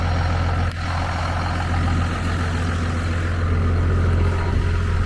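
First-generation Cummins diesel engine in a pickup truck idling steadily, a loud low rumble that stays constant throughout with no talk.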